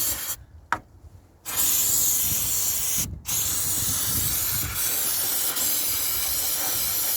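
Carb cleaner sprayed from an aerosol can onto Rover 45 engine parts during a service, with loud close hissing bursts, two short ones at the start and then a long continuous blast after a brief pause.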